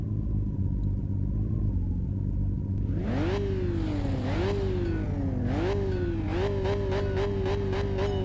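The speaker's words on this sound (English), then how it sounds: "that 2JZ does sound nice that he's got going there" A 2JZ engine on a car in the Kaido Racer driving game revs hard, loud and close, climbing through repeated gear pulls with short dips between each rising whine, over a steady low rumble.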